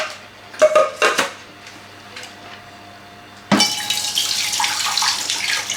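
Water poured off from a pot of soup into a kitchen sink, first a few clinks of cookware, then a sudden steady splashing rush that continues strongly to the end.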